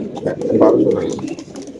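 Racer pigeons coo on a farm, a close, full-bodied cooing that swells and fades while someone talks over it.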